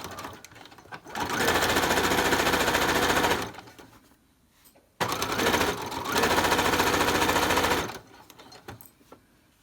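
Sewing machine back stitching a ribbon skirt: two sustained bursts of steady, fast mechanical whirring, each a few seconds long, separated by a brief pause, with quiet gaps before and after.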